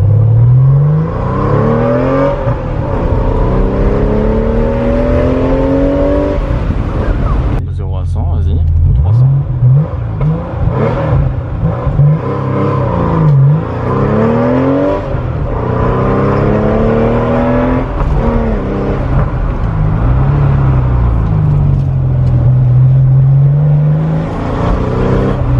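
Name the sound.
Porsche 993 4S flat-six engine accelerating on closed road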